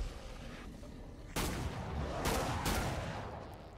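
A 7.62 rifle fires in Killing Floor 2: three loud, sharp reports with booming tails ring out alone, the first after a quiet stretch and two more close together near the end.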